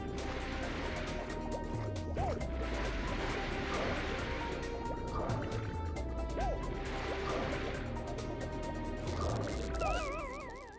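Water in the video game Pac-Man World 2: bubbling, gurgling and dripping liquid with repeated watery plops and splashes under a soft musical background.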